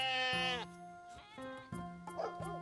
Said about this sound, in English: The mother sheep says ba, ba, ba, all through the town